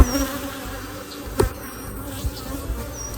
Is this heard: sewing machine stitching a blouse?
no